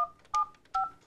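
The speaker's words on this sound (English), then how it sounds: "at the time she dialed Glenn Phillips" Touch-tone telephone dialing: two short, clear DTMF key beeps sound alone, close and evenly spaced, each a steady dual-pitched tone lasting a fraction of a second.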